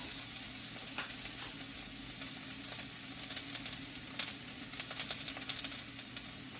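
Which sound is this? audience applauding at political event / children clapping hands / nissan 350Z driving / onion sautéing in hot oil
onion sautéing in hot oil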